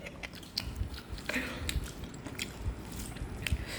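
Someone eats hot meat with rice and chews close to the microphone with soft, wet, irregular bites and mouth sounds. The level is low, with faint background noise.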